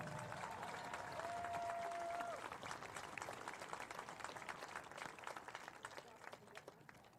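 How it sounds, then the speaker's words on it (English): A stadium crowd at a college football game between Carthage and Illinois Wesleyan applauds a group of honored Titans, a broad, steady wash of clapping and cheering that slowly thins, with a brief tone early on and some voices mixed in. "Let's give this group of Titans a big round of applause."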